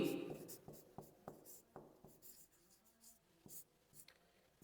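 Chalk or marker strokes on a board during a maths lesson, a series of short taps and scratches in an irregular rhythm, close and fairly quiet.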